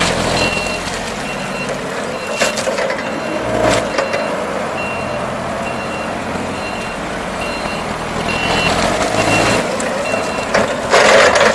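A Cat 5,000 lb cushion tire forklift sounds its backup alarm inside a warehouse, a steady run of loud repeating beeps over the low hum of the machine, with brief louder bursts of noise partway through and near the end.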